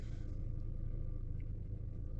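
Steady low engine rumble from a car idling nearby while warming up, constant and unchanging throughout with no talking.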